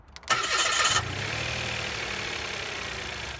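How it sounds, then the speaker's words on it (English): A 2021 Mitsubishi Mirage engine cranks and catches with a loud burst lasting under a second, then settles into a steady, slightly whiny idle that carries on alone with no voices. "On startup, it sounds a little bit noisy, like this."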